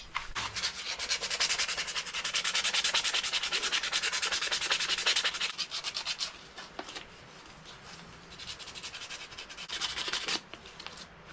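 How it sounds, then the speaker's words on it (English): A knife handle is hand sanded with 100 grit sandpaper in quick, rhythmic rubbing strokes, loud and close for about six seconds, then a quieter pause before another burst of strokes. "I'm using 100 grit sandpaper right now, hand sanding"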